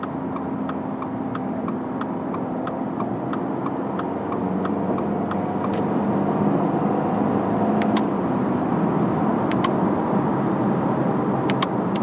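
A 2022 Subaru Impreza Premium hatchback with a CVT in manual mode accelerates at full throttle, its engine drone rising steadily and close inside the cabin, with faint ticking clicks at the start and sharp clicks scattered through.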